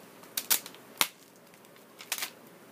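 Art journal pages glued with Mod Podge are peeled apart, giving a few sharp sticky crackles and ticks in small clustered bursts, close and crisp against quiet room hiss.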